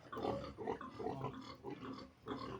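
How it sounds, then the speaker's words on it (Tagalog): Pigs grunting on a pig farm, a run of close, rough snorts and grunts in quick bursts with short pauses, fairly quiet overall. "Dito baboy na."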